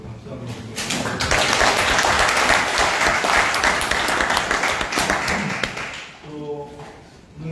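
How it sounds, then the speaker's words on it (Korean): An audience at a Korean National Assembly meeting on the art promotion act claps for a committee chairman, a loud sustained round of applause that swells quickly and fades near the end, with a voice resuming. "박수 한번 드리겠습니다"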